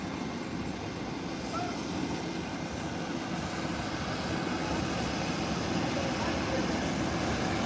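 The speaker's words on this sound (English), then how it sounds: "Global Express heading into park." A Global Express business jet taxiing into its parking spot gives off an even, broad engine roar from a distance, steady and unbroken throughout.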